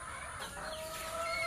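Backyard chickens clucking near a netted yard barrier, a steady flock murmur with brief higher calls standing out, fairly close and continuous without anyone talking.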